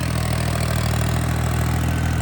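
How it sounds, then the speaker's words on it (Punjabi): Loud, steady low rumble of a tractor engine idling up close, constant throbbing drone throughout with no voices. "ਆਵਾਜ਼ ਟਰੈਕਟਰ ਦੀ ਬਾ ਕਮਾਲੀ ਹੈ"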